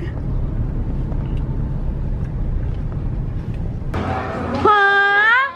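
Road traffic on a congested street after a motorcycle and car collision, with a continuous low engine rumble from passing vehicles, then a sudden louder close passage with a rising whine near the end; voices are heard over the traffic.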